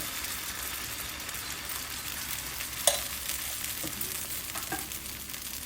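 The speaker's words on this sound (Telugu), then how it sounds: "పెనాన్ని వేడెక్కనిచ్చి ఒక స్పూన్ నూనె వేసుకుని అందులో ఈ బ్యాటర్ని ఇలా వేసుకోవాలి" Dosa batter sizzles steadily in oil on a hot pan, a close, even frying hiss with a few faint clicks and one brief sharp tap partway through; no voices.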